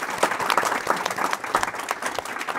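An audience in a university library claps in a short burst of close, loud applause with dense overlapping hand claps and no talk over it.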